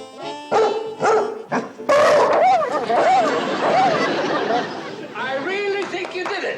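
A man mimics a dog with vocal barks, yips and whimpers in a sitcom scene, a string of loud close barking sounds mixed with chatter from other voices.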